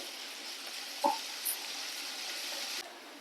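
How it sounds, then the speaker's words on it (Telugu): Ginger garlic paste fries with onions in a pan, giving a steady, soft sizzle throughout, broken by a couple of brief stirring clinks, with no voices. "ఈ అల్లం వెల్లుల్లి పేస్ట్ పచ్చివాసన పోయే వరకు ఫ్రై చేసుకోవాలి"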